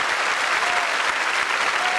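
Sustained cabaret audience applause at a televised variety show, a dense, even roar of many hands clapping with no voices.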